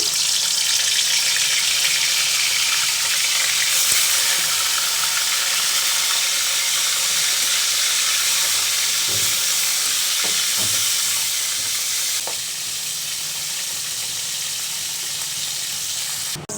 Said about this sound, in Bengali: কড়াইতে ধোয়া ওঠা গরম হয়ে গেছে তেল দিয়ে দিচ্ছি মাছটা ভাজবো আগে মাছ দিয়ে দিলাম